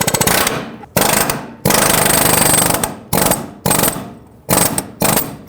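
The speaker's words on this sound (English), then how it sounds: "I'm going to continue using my air chisel to basically push this bolt out." Air chisel hammering out a seized upper control arm bolt on a 2015-2020 GMC Yukon, several loud, rapid-fire bursts of pounding close by with short silent gaps between them.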